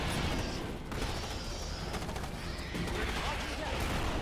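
Dense gunfire and rocket blasts from a Starship Troopers video game roar in a continuous, loud barrage, with rapid overlapping shots and booms filling the whole stretch with no clear pauses.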